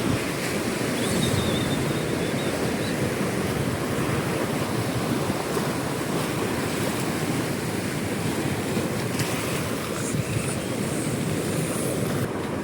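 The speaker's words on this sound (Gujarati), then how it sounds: "ફાઇનલી ગાઈઝ આપણે નાગા બીચમાં આવી ગયા છીએ" Surf at Nagoa beach in Diu rolls in as a continuous, loud, broad roar of breaking waves mixed with wind buffeting the microphone, with no voices.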